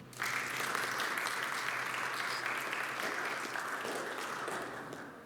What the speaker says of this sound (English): Let's leave them round of applause.